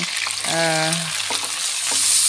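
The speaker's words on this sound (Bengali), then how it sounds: "সব প্রকার মশলা আমি তেলে দিয়ে ভালো করে কষিয়ে নিচ্ছি" Spices frying in hot oil for a fig (dumur) curry, a steady close sizzle with scraping stirs; a brief harmonic tone, like a voice or a kitchen sound, rises midway over the constant hiss.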